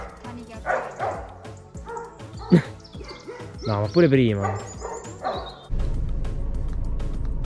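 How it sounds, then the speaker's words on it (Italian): Dog barking at passersby from behind a fence, a few sharp barks and yips heard among people talking nearby, followed by steady outdoor noise. "c'è un cane lì che ci abbaia"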